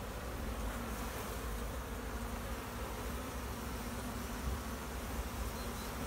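Honeybees buzz continuously at an open beehive showing brood disease, a steady dense drone from many bees held close and loud throughout with no talking.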